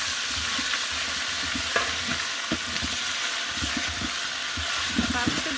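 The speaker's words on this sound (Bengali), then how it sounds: "পেঁয়াজটি লাল লাল করে ভেজে নেব" Onions frying in a pan with ginger, garlic and cumin paste for beef biryani, giving a steady close sizzle with repeated stirring scrapes and faint background voice.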